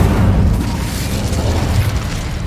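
A deep, booming whoosh of flame from the Incendio fire spell in Hogwarts Legacy, loud and sustained for a couple of seconds with no voice over it.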